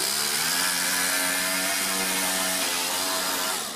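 A small four-stroke overhead cam engine fitted in a two-speed RC crawler car runs at a steady, high, buzzing pitch, loud and close, then eases slightly toward the end, with no talk over it.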